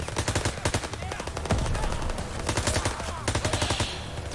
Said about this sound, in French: Ah, il tirait sur mes potes, ok.